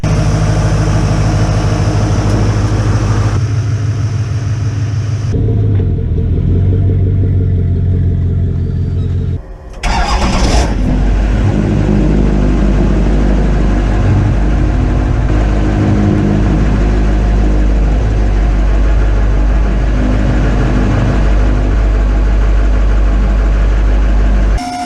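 Mike's truck hauls a loaded trailer out of a yard with a loud, deep, steady engine rumble that changes pitch as it labors, cuts out briefly near the middle, then resumes a heavy drone close by with no talking.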